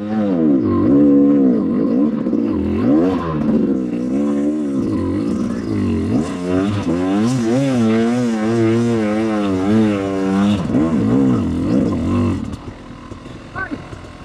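A KRY 200 motorcycle engine revving on a dirt trail at dusk, loud and close, with repeated rising and falling revs over several seconds before dropping off near the end.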